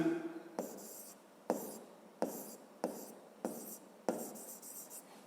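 Notes being written during a physics lesson, a series of about seven distinct pen or chalk strokes in a steady rhythm, close and fairly quiet, with a brief voice at the start.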